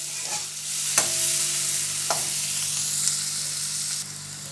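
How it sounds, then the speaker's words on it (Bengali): Chopped onion and six cloves of garlic frying in a pot for spinach soup: an even, close sizzle broken by a few sharp clicks of a stirring spoon. "পেঁয়াজগুলো একটু হালকা করে ভেজে নিয়েছি খুব সামান্য ভেজে নিয়েছি"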